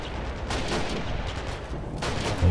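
Machine gun fire in a WWII strategy game set on the outskirts of Stalingrad, a steady stretch of rattling bursts and distant battle noise that continues without pause.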